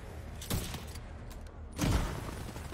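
The Nemesis sniper rifle firing in the video game The Division 2: two separate booming shots about a second and a half apart, each a sharp crack that decays with a low rumble, moderately quiet, with faint mechanical clicks between them.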